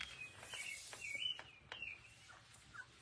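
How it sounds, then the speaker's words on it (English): Birds chirp and tweet outdoors in short, scattered calls over a quiet background, fairly faint and some distance away. "Can you guys hear my birds?"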